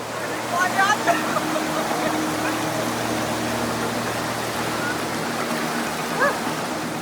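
A strong river current rushes steadily as teachers wade across a mountain river in Sarangani, a broad continuous water roar close by, with a low engine-like hum underneath and short voices calling out briefly.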